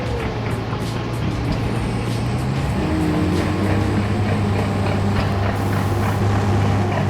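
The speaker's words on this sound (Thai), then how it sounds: "รับผมเร่งเครื่องก่อน" A Liebherr 926 excavator engine in Farming Simulator 19 revs up from a steady low drone to a louder, rising roar that holds strong and close throughout.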